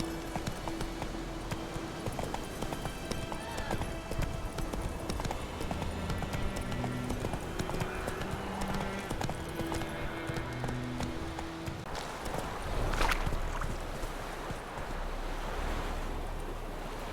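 Roach the horse gallops in The Witcher 3, a steady clip-clop of hooves running throughout over a windy, surf-like outdoor ambience, briefly swelling near the end.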